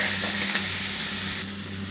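Avakaya mango pickle frying in a pan produces a loud, dense sizzle with a steady low hum, close up and continuous, easing slightly toward the end.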